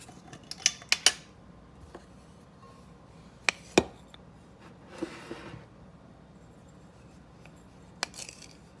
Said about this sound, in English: now we need 2 teaspoons of white sugar, and I'm just going to add it to my buttermilk powder